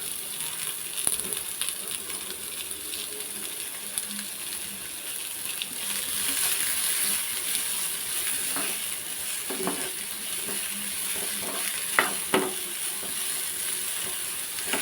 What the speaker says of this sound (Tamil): வெங்காயம் சேர்த்து நல்லா வதக்கிக்கலாம்